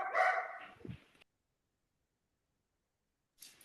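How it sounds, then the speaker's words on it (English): A dog barks a few times up close, then everything goes quiet before a faint rustle at the end. "mute yourself if your dog is barking in the background"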